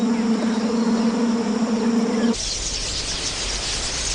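Swarm of insects, flies among them, buzzing in a dense steady drone that starts with a low hum and shifts to a brighter, hissier buzz partway through, loud and close with no talk.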